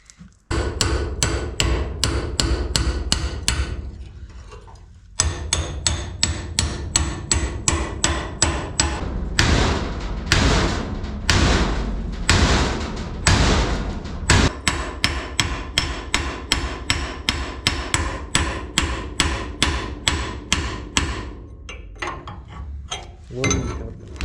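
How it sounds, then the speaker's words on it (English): Heavy hammer blows ring out on a steel dump-trailer frame in a fast, steady rhythm, loud and close, with a brief pause before the pounding resumes. "I'm literally bending the frame by hammering it."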